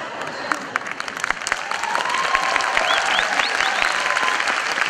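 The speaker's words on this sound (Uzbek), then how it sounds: "qarsak chalayapsiz" An audience at a live motivational talk bursts into sustained, dense applause, many hands clapping together in a steady roar with a few higher vocal whoops above it.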